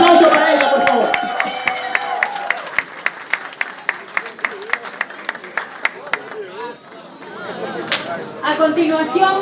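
Crowd applauding a pageant contestant as she is called forward, a dense burst of clapping that thins into scattered claps, with an announcer's voice at the start and chatter near the end.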